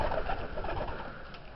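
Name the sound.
white pigeons cooing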